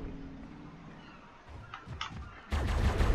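Tek rifle fire in the video game Ark, several quick energy-weapon blasts in a short burst, then a loud dense barrage of shots continuing to the end.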